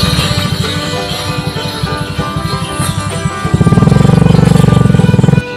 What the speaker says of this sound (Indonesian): Dikawal dengan satu sepeda motor, cepat sekali melintas di depan kita.